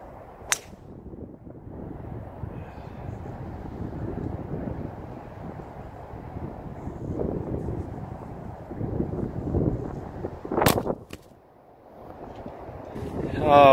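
Wind blowing across an open golf course, a steady low rumble and buffeting on the microphone throughout, with a sharp snap near the end and a louder gust closing out.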